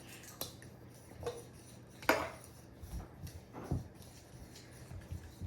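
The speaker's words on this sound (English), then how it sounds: "you are going to mix your wet and dry ingredients, which is the Jiffy corn mix and the cream corn" Jiffy corn mix is stirred together with cream corn in a bowl, giving soft, irregular clinks and scrapes of a utensil against the dish, with a few sharper knocks amid quiet, wet squishing.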